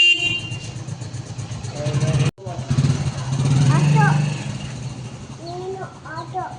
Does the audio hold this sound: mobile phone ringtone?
no